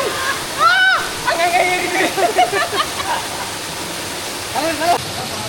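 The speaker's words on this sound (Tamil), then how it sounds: "சம்மருக்கு ஒரு பெஸ்ட் வாட்டர் ஃபால்ஸ்னால் இதுதான்." Sadasiva Kona waterfalls in Andhra Pradesh pour with a steady, loud broadband rush that never lets up, while voices talk over the falling water.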